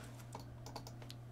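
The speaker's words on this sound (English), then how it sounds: "Wait, I typed it wrong." Quick burst of typing on a computer keyboard, several soft, close key taps in rapid succession, fairly quiet, with no one speaking.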